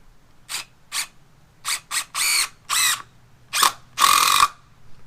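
DeWalt 20V impact driver set to maximum torque drives four-inch screws in eight loud ratcheting bursts, a few short and a few longer, with brief quiet gaps between them and no talking.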